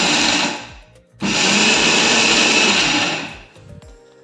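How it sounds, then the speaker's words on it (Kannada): A mixer grinder jar grinds peeled peanuts into a coarse powder, a loud close whirring motor roar in two bursts separated by a brief pause, then winding down, with no talking. "ಕಡಲೆ ಬೀಜ ಸಿಪ್ಪೆ ತೆಗೆದ್ಮೇಲೆ ಮಿಕ್ಸಿ ಜಾರಿಗೆ ಹಾಕಿ ಇದನ್ನು ಈ ರೀತಿ ಮಿಕ್ಸಿ ಜಾರಿಗೆ ಹಾಕಿ ತರಿಯಾಗಿ ಪುಡಿ ಮಾಡಿ."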